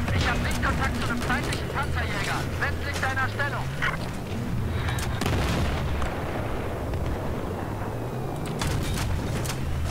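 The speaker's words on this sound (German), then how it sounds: "Hä, was schießt denn? Na, ist bestimmt das Gunship." A gunship fires in Battlefield 4, heavy booming shots and rapid bursts repeating amid battlefield rumble, with people talking over it.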